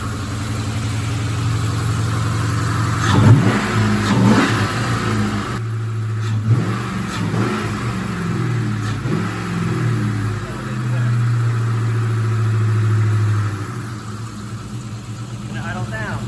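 A Ford Mustang engine, freshly tuned with new spark plugs, runs steadily with a low drone and a few revs rising over the idle, close by, while people talk over it.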